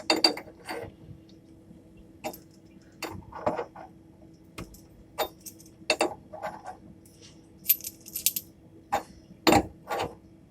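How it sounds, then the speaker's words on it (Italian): Metal wrench tightening a gas hose fitting on an oven: sparse, sharp metallic clicks and clinks at irregular intervals, close and fairly quiet, with a faint low hum beneath. "E stringiamo con la chiave."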